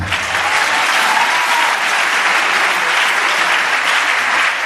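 A church congregation applauding during a sermon, sustained dense clapping from a large crowd that holds steady from start to finish.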